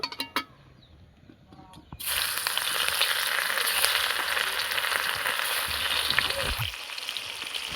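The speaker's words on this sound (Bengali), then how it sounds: "এবার মাছটা ভেজে নেব" Fish sizzles loudly in hot oil for a river mud fish (shol) curry, a steady crackling fry that starts abruptly after a quiet moment and holds close and even, with no voices.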